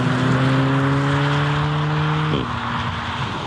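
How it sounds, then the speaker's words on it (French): A 2-litre turbo car engine holds a high rev, then drops abruptly in pitch as it shifts, with steady road and wind noise underneath. "C'est une mécanique qui prend des tours avec entrain."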